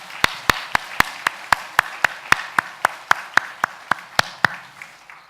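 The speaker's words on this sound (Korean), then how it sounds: "하나님 앞에 감사와 영광의 박수를 올려 드리도록 하겠습니다" A church congregation at a Sunday morning service claps in unison to a steady, brisk beat, about eighteen sharp claps in a row, then stops.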